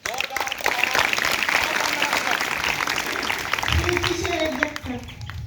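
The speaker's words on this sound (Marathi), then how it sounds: "तिसाठी जोरात टाळ्या परत" A roomful of people claps for a student at a primary school quiz, brisk, crowded applause that runs steadily, then tapers as a voice starts speaking near the end.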